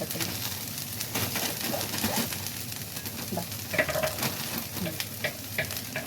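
A cluster bean and peanut stir-fry being stirred in a pan, with a constant sizzle and frequent light scraping strokes, while pigeons coo faintly in the background.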